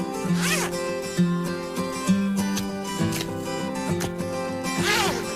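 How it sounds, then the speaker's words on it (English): Repeated short zipping slides of a Ziploc plastic food storage bag slide-lock closure, several quick passes in a row with faint background music underneath. "So now you can be sure it's fresh because you can hear Slide Lock close."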